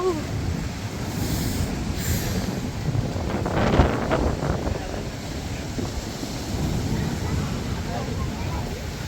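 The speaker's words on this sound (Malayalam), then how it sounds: "ശക്തമായ തിരമാലയാണ് ഭയങ്കരമായിട്ട് കാറ്റ്" A Sharjah beach lashed by strong wind and rough sea waves produces a dense, steady roar, with deep wind buffeting on the microphone and a swelling surge around the middle.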